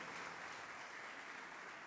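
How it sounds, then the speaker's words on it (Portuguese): Dense, steady applause from a church congregation, a continuous wash of many hands clapping together at an even level with no distinct individual claps or voices. "vamos aplaudir o Senhor, irmãos"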